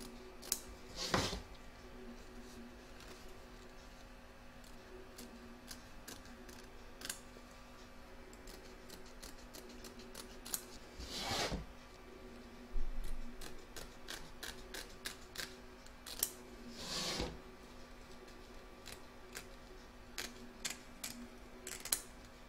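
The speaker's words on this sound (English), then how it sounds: "And now I'm just going to cut close to the stitch line." Sharp scissors snip away excess fabric close to the stitch line on a machine-embroidered T-shirt design in an embroidery hoop, giving a few faint, sparse cuts with tiny clicks between them in a quiet room.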